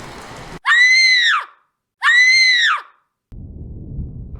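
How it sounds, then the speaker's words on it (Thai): Young woman screaming, two loud, close, drawn-out shrieks with a short silence between them, set against faint background rumble in a Thai horror tale about a white tiger spirit. "ได้มีเสียงกรีดร้องของหญิงสาวดังขึ้นมา"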